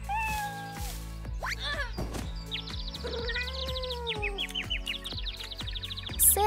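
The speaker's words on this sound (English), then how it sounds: "Oh, there are cats somewhere." Several cats meow repeatedly, high and plaintive, overlapping each other over a steady background tone, close and clear.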